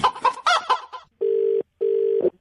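Two identical rooster-crow sound effects played back to back on a Hindi radio prank-call show, each a flat, buzzy, synthetic-sounding tone, just after a short burst of a man's speech.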